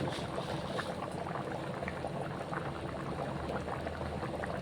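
Bagara rice cooking in coconut milk, bubbling at a steady rolling boil close by, an even gurgling texture with no voices.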